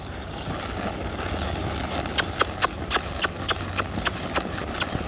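Horses being ridden in a riding exhibition clop their hooves in a brisk irregular rhythm that grows louder partway through, over a low background rumble and no talking.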